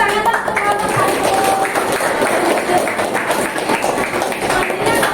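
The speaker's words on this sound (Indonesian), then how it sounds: "Tepuk tangan untuk kelompok satu." A class of students claps for the first presentation group in an Islamic cultural history lesson, a dense, steady patter of hands filling the room with some chatter underneath.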